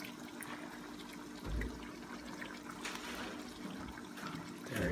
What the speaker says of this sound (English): And then we're gonna add our tomato sauce.